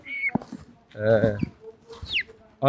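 Chickens at a chicken farm cluck and squawk close by in short bursts, with a person talking in between.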